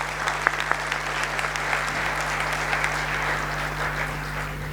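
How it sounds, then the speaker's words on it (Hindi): An audience at a motivational talk breaks into sustained, dense clapping that holds steady for several seconds, with a faint low hum underneath. "सर के लिए भी जोरदार ताली बजना चाहिए"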